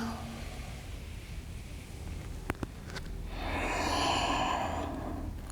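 A long, breathy exhale during a yoga session, soft and close, swelling near the end after a couple of faint clicks in a quiet room.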